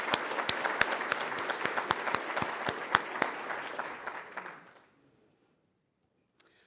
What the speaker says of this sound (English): let's give them another round of applause as a big thank you